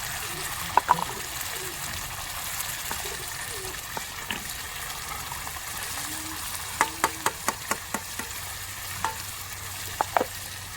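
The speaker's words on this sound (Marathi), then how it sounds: "आता मस्तपैकी परतून घ्यायचा बरं का" Mutton keema with green masala frying and being stirred in a pan, a steady soft sizzle with a run of sharp spoon-on-pan taps near the end; no talking.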